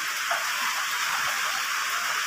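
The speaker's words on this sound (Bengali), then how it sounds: "এখন এই যে বৃষ্টি নেমে গেছে" Steady rain falling after days of heat in a rural Bangladeshi village, a dense continuous hiss close by with no talk over it.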